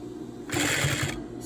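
A sewing machine runs in a short burst as it stitches an inverted pleat at the corner of a throw pillow. The motor whirrs steadily at close range for about half a second, then stops.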